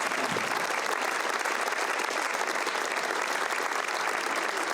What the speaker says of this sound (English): You guys can start applauding if you'd like